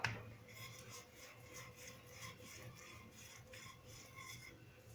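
Cinnamon chapati dough being rolled out on a lightly floured surface, giving a steady soft rubbing and rasping scrape that repeats in gentle strokes, close by and fairly quiet, with no one talking.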